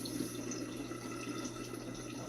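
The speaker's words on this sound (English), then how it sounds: "You can kind of see a little bit of a trickles coming out." An aquaponics bell siphon drains water into a drain pipe, making a steady, soft trickle that continues quietly and evenly throughout, with no voices.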